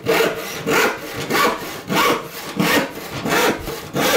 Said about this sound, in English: You can also stop and switch to a crosscut.